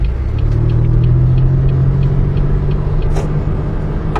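A 2004–2008 Pontiac Grand Prix pulls along steadily in first gear, its low engine drone and road rumble continuous and fairly loud from inside the car.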